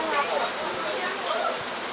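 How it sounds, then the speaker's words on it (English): Heavy rain pours steadily over an outdoor basketball court, a dense, even hiss of falling water that fills the whole stretch, with a voice talking over it. "Rain, rain, rain, and more rain."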